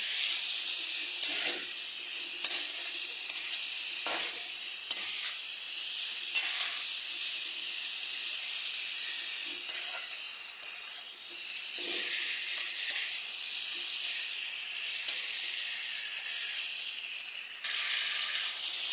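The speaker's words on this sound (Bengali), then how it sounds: "এটাকে আমি ভালো করে কষিয়ে নিয়েছি" A vegetable curry (labra tarkari) is stir-fried in a pan, giving a steady thin sizzling hiss broken by sharp, regular scraping taps of a spatula every second or two.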